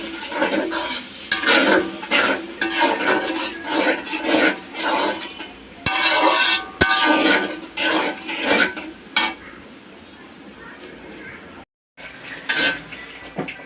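Spice masala for a mann kochu kopta curry is stirred and fried in a pan, with repeated scraping and clanking of a utensil against metal in rhythmic bursts, a soft sizzle beneath, and a short pause near the end.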